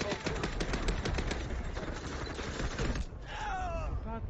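Rapid automatic gunfire in the video game Delta Force during a co-op match, a dense burst of sharp repeated shots, loud and close, ending in a brief pause followed by a fainter whistling sweep.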